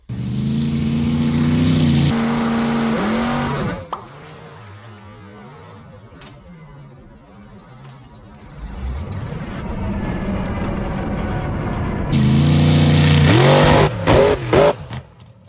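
A mega truck engine revs hard, drops to a lower rumbling drive, then roars up again with sharp rising revs and a few abrupt cut-offs at the end, loud and close.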